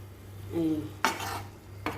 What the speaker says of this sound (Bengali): জল দিয়ে আবার নাড়াচাড়া একটু করে নিই পুরোটা